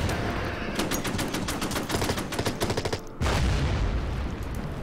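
Bursts of rapid gunfire from units in the World War II strategy game Order of Battle, stuttering machine-gun volleys rattling loudly, a brief gap, then a heavier booming fusillade.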